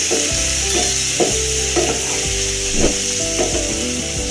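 Chopped tomato and onion sauté in a pan for a soya chunk gravy, a constant sizzle broken by periodic scraping stir strokes over a sustained tonal hum underneath.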